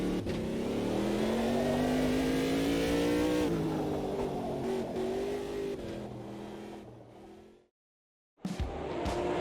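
An LMP2 prototype race car engine in the Automobilista 2 racing game drones loudly at high revs, pitch rising and shifting through gears for several seconds before cutting out abruptly and briefly returning.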